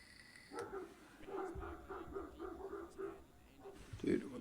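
Several dogs bark in a garden, a string of rhythmic, moderately distant barks heard behind nearby talk, ending with a louder burst.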